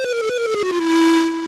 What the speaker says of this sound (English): That's the sound of Link dying in the video game Zelda.